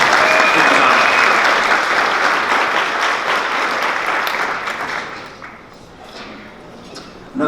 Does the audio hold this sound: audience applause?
yes